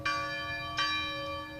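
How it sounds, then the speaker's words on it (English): Two strokes of a church bell ring out at a memorial ceremony, each leaving a long humming tone that lingers between strikes. "bells ringing out at this local church"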